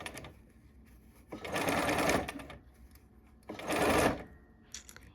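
A domestic sewing machine stitches quilt fabric for curved piecing, with two loud bursts of rapid mechanical stitching separated by quieter handling pauses, close up and without talk.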